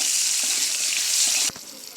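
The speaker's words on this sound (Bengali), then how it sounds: "কিছুক্ষণ লাল লাল করে ভেজে নিব।" Pointed gourd (potol) frying in hot oil in a pan, giving a loud, steady close-up sizzle for most of the moment before it abruptly drops to a quieter crackle.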